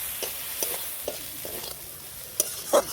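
Scraping stirs of a spoon through egg momo filling in a frying pan, several uneven strokes with a faint sizzle underneath, close up.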